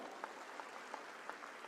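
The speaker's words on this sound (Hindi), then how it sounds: "एक बार भाई जोरदार ताली बजा दो।" Audience clapping at a political event in Delhi, a faint, distant patter of applause with a few sharper claps standing out.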